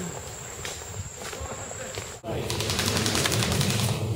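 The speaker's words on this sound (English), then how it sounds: "Hey, you want to stop shooting at me?" Airsoft guns fire during an outdoor skirmish, first faint and intermittent, then a dense rapid stream of pops close by over a constant outdoor hiss.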